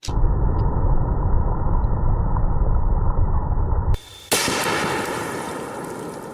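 Gunfire aimed at a stone or concrete block: a dense, loud burst of reports that runs for several seconds, then a sudden cut, one sharp crack and a fading rumble, with no talking.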